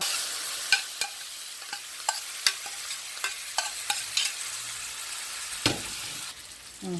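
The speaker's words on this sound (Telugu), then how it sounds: "ఇప్పుడు దీన్ని ఇలా కలిపేసుకోవాలి" Cucumber chutney being stirred in a pan with freshly fried curry leaves: a steady soft sizzle runs under repeated scraping strokes and sharp spoon clicks against the pan, close and alone.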